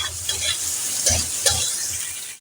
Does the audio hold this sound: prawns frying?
yes